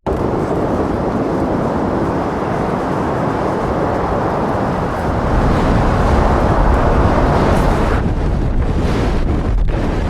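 Super Typhoon Matmo's wind in Hainan, China, with gusts up to 190 km/h, roars loudly and without pause, a dense rushing blast that surges heavier partway through and buffets the microphone.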